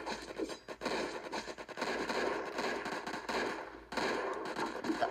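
Gunfire in a Roblox zombie apocalypse video game, dense crackling bursts of shots rattling almost continuously, loud and close, with a brief pause before the shooting resumes.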